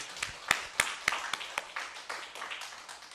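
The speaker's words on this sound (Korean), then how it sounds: "영광의 박수 하나님께 돌리겠습니다" Church congregation clapping briefly to give glory to God at the close of a sermon, a handful of sharp distinct claps followed by softer scattered patter, fairly faint.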